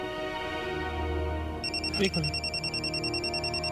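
A mobile phone starts ringing partway through with a repeating electronic trill, close and steady, over a low background hum, in a domestic scene.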